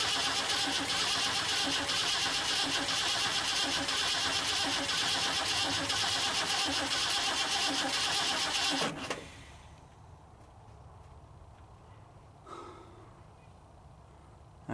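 A 1978 Ford F-150 pickup with new fuel lines and a troublesome carburetor cranks and catches, running loud and rough for about nine seconds before cutting out, leaving quiet background with a faint bump later.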